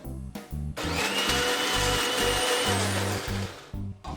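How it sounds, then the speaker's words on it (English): An electric grinder pulses in short bursts and then runs continuously, whirring loudly up close as it turns Goan recheado masala, including sugar, into a smooth paste. "Now I'll grind this into a smooth paste."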